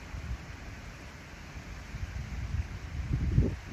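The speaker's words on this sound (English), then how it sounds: "you can still hear the wind in the background" Low, gusty wind rumbles outdoors, soft and steady with a few stronger buffets near the end.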